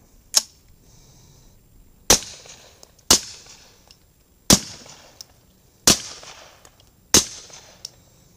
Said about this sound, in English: I think I got 5 rounds loaded in the magazine, so let her rip.